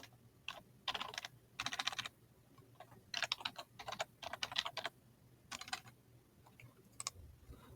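Computer keyboard typing in quick bursts of close, crisp key clicks separated by short pauses, alone without talk.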